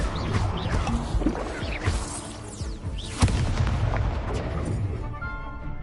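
Fiery Incendio spell blasts burst in a Harry Potter video game duel, a dense run of booming, crackling impacts with one sharp louder hit midway, layered with game effects and faint voices.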